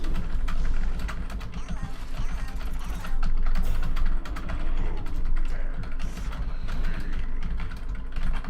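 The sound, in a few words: typing on a computer keyboard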